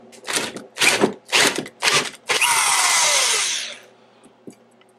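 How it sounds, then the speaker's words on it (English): A power drill with a 1/4 inch bit bores out a lock, starting with four short bursts and then running in one longer, loud, grinding stretch up close before it winds down. "We're going to go with a 1/4 inch bit and see if that'll take that out."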